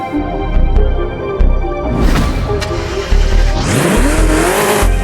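A car engine in the racing video game Forza Horizon 5 revs and roars in bursts, rising in pitch as it accelerates, loud and close, with a brief tire-squeal edge near the end.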